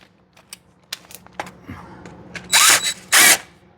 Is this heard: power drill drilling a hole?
yes